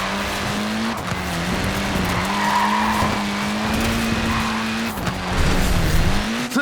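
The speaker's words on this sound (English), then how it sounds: "Look at that, laying down some rubber there." A Mini skidding in the racing game Forza Horizon 4, its tyres squealing over a steady droning engine note, loud and continuous with small dips in pitch, and no voices.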